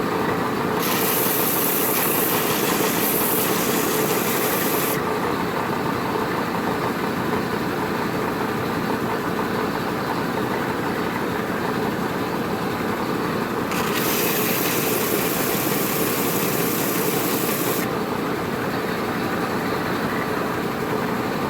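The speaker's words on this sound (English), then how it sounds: "Now the belt sander works really quick, so you got to be very careful." A belt sander grinds a knife handle in a blacksmithing shop, a continuous loud motor whir with two stretches of brighter, harsher abrasive hiss as the handle presses against the belt, with no talking.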